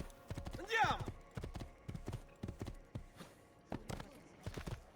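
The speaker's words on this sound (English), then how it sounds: "going through with a horse should make it pretty quick" In the video game Assassin's Creed II, a horse's hooves clip-clop on a hard surface, a quick close rhythm of distinct knocks, with a short vocal sound partway through.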